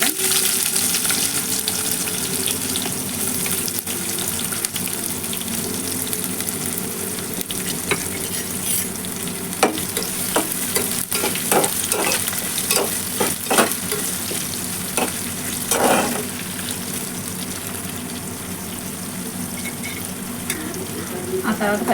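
Chopped onions and cumin seeds fry in hot oil, making a loud, continuous sizzle broken by repeated scraping and stirring clicks, with no voices.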